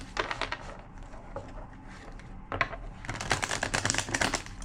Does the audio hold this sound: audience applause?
no